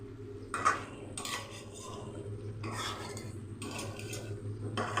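Chicken cooked in bata masala being stirred in a pan: a utensil scrapes and clinks against the metal in several separate strokes over a low sizzle, close and fairly quiet, no talking.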